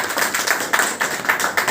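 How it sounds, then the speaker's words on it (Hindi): An audience claps in rhythm during a Hindi business-plan presentation, a steady series of sharp, loud claps spaced evenly and close together. "तो बजाओ ताली मेरे"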